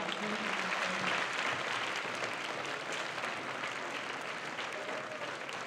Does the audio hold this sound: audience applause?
yes